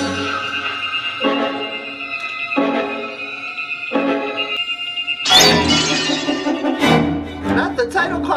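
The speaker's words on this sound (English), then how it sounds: "the title card breaking the glass" Glass shatters on the Friday the 13th (1981) title card, a bright crashing break arriving after several sustained musical stabs, with a second burst of shards following close behind over the score; voices talk around it.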